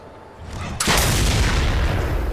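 A shotgun fires in the Mad Max video game, a sudden loud broadband blast that hangs on as a dense roaring rumble until the end.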